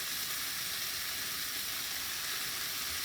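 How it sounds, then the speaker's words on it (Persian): Meat added to lightly softened onions sizzles and fries in a pan for Persian ghormeh sabzi stew, a steady close hiss with no pauses and no voices. "وقتی پیاز رو سبک شد گوشت رو بهش اضافه میکنیم"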